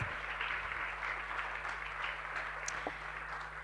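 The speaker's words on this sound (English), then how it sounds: "Please, let's give them a round of applause" A conference audience applauds a panel with a soft, distant patter of many hands clapping, steady and fairly faint throughout, over a constant low electrical hum.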